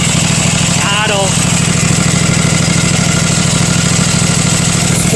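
A Husqvarna MZ5225 zero-turn mower engine idles steadily up close, a constant loud low hum with a brief chirping squeal near the start.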